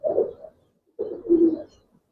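Two short bursts of soft, throaty cooing from Giribaz pigeons of the Pallah line, close by and alone with no talk, the second coo fuller and slightly longer.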